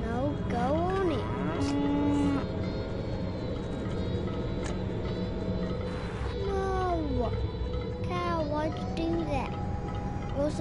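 A cow moos in the Goat Simulator game, several drawn-out calls sounding loud and close, while someone talks and shouts in between them.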